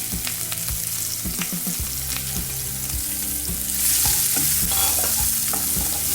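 Finely chopped onions sauté in hot oil for a restaurant-style chicken handi, a loud continuous sizzle broken by rhythmic spatula strokes scraping the pan, growing slightly louder toward the end.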